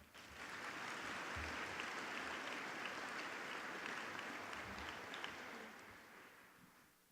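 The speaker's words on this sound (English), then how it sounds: "How about one more round of applause for all three of them?" Audience applause fills a graduation ceremony hall for the speakers, a dense, sustained wash of clapping from a large crowd that swells quickly, holds steady for several seconds, then tapers off.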